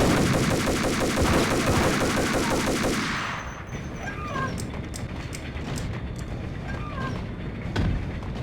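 Loud rapid automatic rifle fire in the Max Payne video game rattles for about three seconds, then stops, leaving lower background noise with a few faint sharp ticks.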